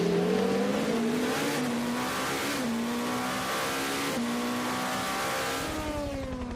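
Race cars at the 24 Hours of Le Mans, including Romain Dumas's car, roar past the Indianapolis corner with loud rising and falling engine notes and gear changes, continuous and close, with no talk.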